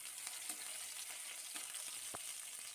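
Chopped tomatoes frying in hot mustard oil in a wok, a faint steady sizzle with scattered soft crackles and one sharper tap.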